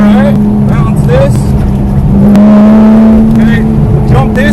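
Porsche GT3 race car on Buttonwillow Raceway at wide open throttle, its steady loud engine drone rising slightly in pitch, heard from inside the car under a voice.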